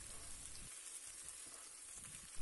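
Tomato paste and pepper paste sautéing in a pan with bulgur and green lentils, giving a soft, continuous sizzle with a light crackle, fairly quiet and close, with no talking.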